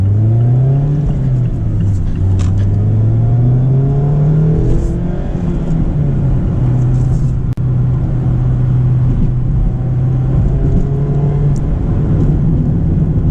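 A 2022 Mazda MX-5 Miata Touring downshifts to first gear, its engine note climbing and sagging through a steady rev from inside the cabin, a smooth, prominent hum that lasts throughout without talk.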